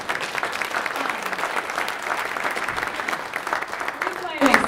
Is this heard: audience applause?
yes